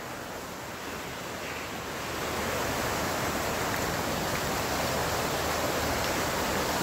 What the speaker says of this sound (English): and come down to this river.